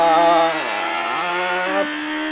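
A Suzuki Hayabusa motorcycle engine while riding, a loud close harmonic drone that dips and rises in pitch through gear changes, with no talking.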